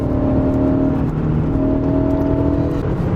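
A 224-horsepower inline four-cylinder petrol engine in a Mercedes-Benz CLA 250 4MATIC drones steadily, with a smooth tonal whir and low rumble that rises gently as the car accelerates, heard from inside the cabin.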